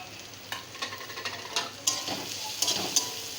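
Slit green chillies plus chilli, turmeric and cumin powders hitting hot oil over fried garlic and onion, a soft sizzle broken by repeated spatula scrapes and stirs.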